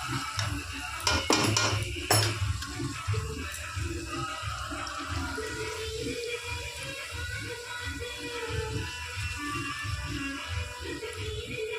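Large pieces of chicken chaap meat being stirred in a pot with yogurt, mustard oil and salt, giving repeated clattering scrapes and knocks of metal against the pot, close and fairly loud, with no talk.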